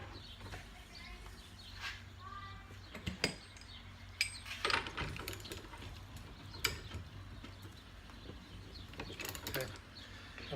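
End caps are threaded by hand onto a rebuilt 1965-1973 Mustang upper control arm, giving faint metallic clicks, scrapes and ratcheting ticks over a quiet room background, with a few sharper knocks spread across the stretch.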